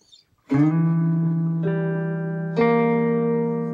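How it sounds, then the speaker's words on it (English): Three sustained guitar notes struck one after another, stacking into a tense, dark-sounding chord that rings on clearly with no talking. "Doesn't that sound evil? It's because it's called a diminished chord."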